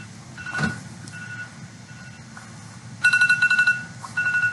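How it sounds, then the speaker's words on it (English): A phone alarm goes off with a rapid string of bright electronic beeps in short pulses, repeating after a brief pause, fairly loud against a quiet room. "sorry, it's an alarm on my phone."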